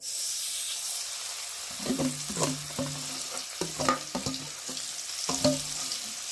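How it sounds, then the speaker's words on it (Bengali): Green peas drop into hot oil in a wok and fry with a steady sizzle, while a spatula scrapes and clinks against the pan in irregular strokes. Close and moderately loud, with no one talking. "আর এখন আমি মটরশুঁটিগুলোকে তেলের মধ্যে দিয়ে দেবো"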